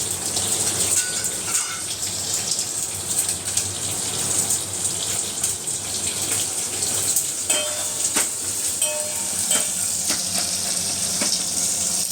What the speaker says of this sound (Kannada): ಇದು ಸ್ವಲ್ಪ ಈರುಳ್ಳಿ ಸ್ವಲ್ಪ ಚೆನ್ನಾಗಿ ಫ್ರೈ ಆಗಲಿ